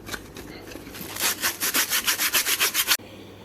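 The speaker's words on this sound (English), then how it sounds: "So now I'm just going to get sanding." Sandpaper rubs back and forth over the cut edge of a coconut shell in quick, even strokes, about a dozen rhythmic rasping passes close up before stopping abruptly.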